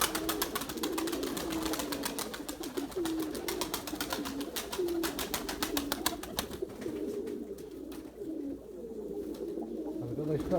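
Pigeons cooing in low, soft calls with a fluttering clatter of wings through the first half, then quieter cooing continues under outdoor ambience.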